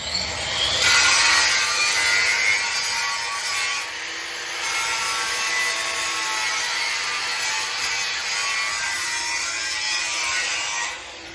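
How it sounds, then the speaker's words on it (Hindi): An angle grinder works on a 600-size tractor tyre rim for a John Deere 5039, giving a loud, sustained harsh grinding whine with a brief pause midway before continuing steadily. "इसको और मार दे ग्राइंडर"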